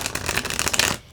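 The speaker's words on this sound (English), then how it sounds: "let's just shuffle first and get into your energy" A deck of tarot-style cards shuffled for a card reading, a dense run of crisp riffling flutters close to the mic that stops abruptly near the end, alone with no voice.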